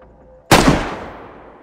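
A single sharp gunshot in the video game DayZ cracks out after a moment of near silence, its echo decaying gradually over the next second.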